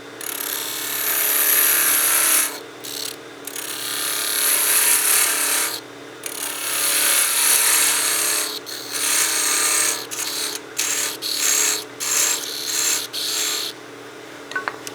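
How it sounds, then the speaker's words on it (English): A narrow parting tool cuts into a spinning wooden whistle blank on a lathe, forming a small half-inch diameter section. The cut is a loud, steady scraping hiss that comes in several long bursts separated by brief pauses. "I'm going to use my narrow parting tool and create a small, basically 1/2 inch diameter part here"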